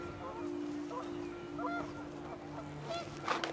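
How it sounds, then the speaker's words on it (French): Geese in the video game What Remains of Edith Finch, a flock honking repeatedly over a steady wind-like background hum, calls overlapping and growing louder near the end, with a narrator talking faintly. "Les oies passèrent tout affolées"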